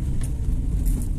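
A car accelerating on a driving test, heard from inside as a steady low engine and road rumble, close and continuous, with no voices.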